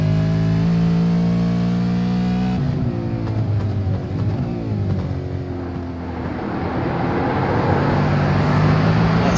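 A V8 race car engine drones loud and close from an onboard nose camera, holding a steady high pitch, then dropping and climbing again through gear changes.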